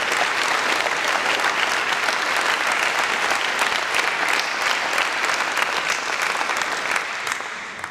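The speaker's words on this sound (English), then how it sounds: "A big round of applause for them." Sustained applause from a sizeable crowd, dense and steady clapping throughout, tapering slightly at the end.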